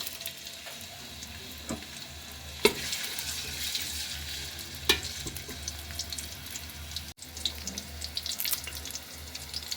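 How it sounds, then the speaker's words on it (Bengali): Onions frying in oil into birista for a chicken meat curry, a steady soft sizzle and crackle with a few sharp stirring clinks, close and fairly quiet throughout. "এই যে আমি বেরেস্তাটা ভালো করে ভেজে নেব"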